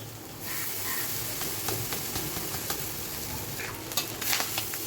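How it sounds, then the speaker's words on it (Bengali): Rice tipped into fried vegetables and nuts in a pan, then stirred: a steady close sizzle broken by repeated scraping spoon strokes and clatters, growing busier toward the end, with no talking. "এবারে রাইসটা দিয়ে দেব"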